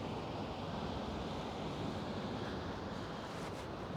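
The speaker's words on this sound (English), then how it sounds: "There are some quite big waves crashing on the rocks in the distance." Big waves crashing on rocks in the distance off the coast at Paguera, Mallorca, a steady broadband wash of surf with wind noise on the microphone, constant and fairly faint, with no talking.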